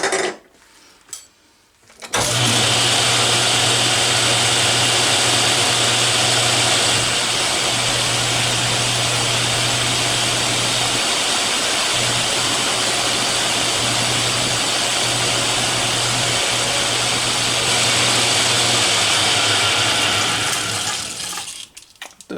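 An Atlas lathe turns metal stock down for a custom collet. It starts after a short pause and runs as a continuous, loud, broad whooshing drone with an underlying low hum for about twenty seconds, then stops.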